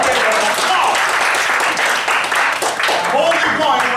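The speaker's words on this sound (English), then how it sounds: "Give Captain Kirk a big round of applause." Audience at an improv student showcase breaking into loud, sustained applause, a dense wash of clapping that runs steadily throughout, with cheering voices mixed in.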